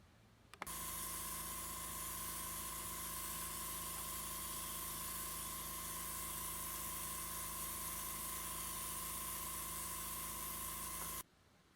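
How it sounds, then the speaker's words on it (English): An airbrush sprays a gray-green base coat onto the hull of an AMT Klingon Cruiser model kit, giving a steady, close hiss with a faint tonal whine. It holds continuously for about eleven seconds between abrupt start and stop, with no talking. "I'm going to kick on the airbrush and see what I can put on the hull today"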